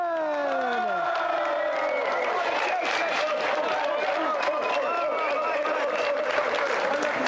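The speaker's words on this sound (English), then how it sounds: "let's have a round of applause for tonight's contestant, Adam Freeman" Loud, dense applause from a large TV game show studio audience, with cheering, sustained throughout without a break.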